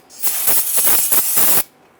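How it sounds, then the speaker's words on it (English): Solvent aerosol sprayed onto the front brake parts of a 1994-2004 Ford Mustang: a loud, close, steady hiss lasting about a second and a half with slight pulsing, then silence. "We're going to go ahead and spray that with some solvent."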